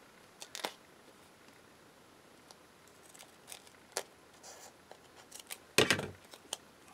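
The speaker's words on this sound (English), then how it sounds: "I'm going to take this scrap piece and I'm going to cut it in half" Scissors cut a scrap piece of paper in half: faint scattered snips, then a louder crisp crunch of blades closing near the end, with no talking.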